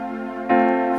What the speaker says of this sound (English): So this is the first inversion of F.